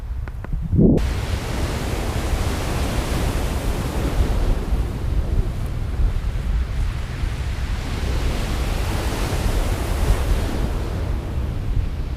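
Sea surf rolls steadily onto a beach in Japan beside a strip of woodland in the evening, a continuous broad wash of breaking waves with wind noise on the microphone and no voices.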